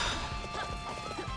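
Horse hooves clip-clopping at a gallop in the video game Dynasty Warriors 8 Empires, a steady near beat mixed with crashes and battle noise, no talk.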